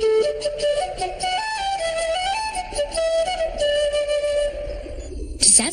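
A flute plays a bright, sustained melodic line, clear and fairly close, running steadily for several seconds before ending with a short noisy burst.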